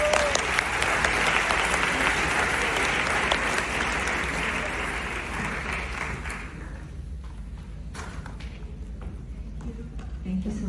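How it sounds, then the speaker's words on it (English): A full high school auditorium audience applauds to welcome a speaker at an Armenian Genocide event. The dense, loud clapping fades gradually over the second half as talking comes in. "Please join me in giving a warm round of applause to welcome Ms."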